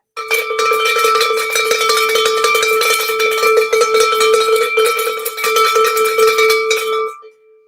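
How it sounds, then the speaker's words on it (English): A large bell rung by a pulley system rings loudly and steadily, its bright metallic tone sustained with rapid repeated strikes, then cut off abruptly near the end. "let's get that bell ringing"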